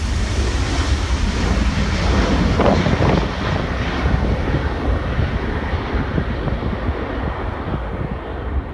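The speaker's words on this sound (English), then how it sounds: "This overloaded plane used every inch of the runway and barely took off at the last second." An overloaded airplane roars down the runway and barely lifts off at its end, a loud sustained engine drone with wind buffeting the microphone, swelling briefly before holding steady.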